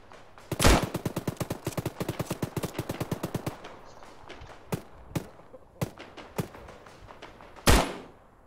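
Video game gunfire: a long rapid burst of automatic fire followed by scattered single shots and a final loud report, fairly close and with no talk over it.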